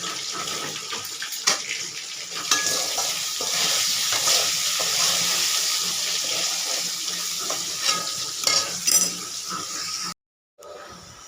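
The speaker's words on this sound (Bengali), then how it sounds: "আলু ভাজা হয়ে গেছে" Potatoes frying in a pan for a rohu fish curry, a steady sizzling wash with occasional stirring scrapes, close and continuous, ending in a brief silence.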